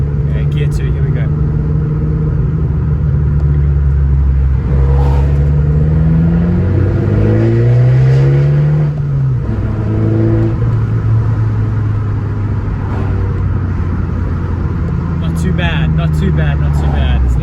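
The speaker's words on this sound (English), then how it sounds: "Okay, gear 2, here we go." An Abarth car pulls away in second gear, its engine note rising steadily in pitch as it accelerates, with a deep exhaust drone underneath and the driver talking over it from inside the cabin.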